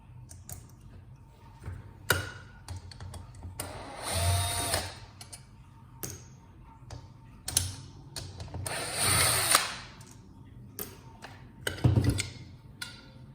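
T20 Torx driver backing screws out of a Kirby Ultimate G vacuum cleaner during teardown: several short whirring bursts of a powered driver, close and moderately loud, separated by clicks and handling noises.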